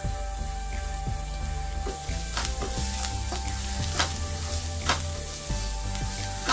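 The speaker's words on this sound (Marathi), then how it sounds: "कांदा थोडा फ्राय करून घेऊया" Onion frying in a pan with curry leaves, a steady close sizzle with scattered crackles and spoon taps over a low humming background, no talking.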